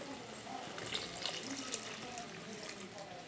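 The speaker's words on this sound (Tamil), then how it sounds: "இப்போ நம்ம வந்து தேவையான அளவுக்கு தண்ணி ஊற்றிக்கலாம்" Water pours and splashes into a pressure cooker while making tomato kadayal, in a short, fairly quiet stream, with a soft trickling texture throughout.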